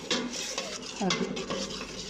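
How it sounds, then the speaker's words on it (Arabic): Eggs being stirred in a pan for chicken pastilla, a steady scraping and clinking of a utensil against the pan with a light sizzle underneath, close and continuous throughout. "نبقى نحرك البيض"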